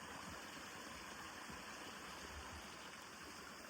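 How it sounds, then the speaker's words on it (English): Running water of a creek in a snowy winter gorge near waterfalls at Wolf Creek Falls Preserve in Altamont, New York, a steady broadband rush that fills the whole clip without pause or voices. "You can hear the running water in this section only."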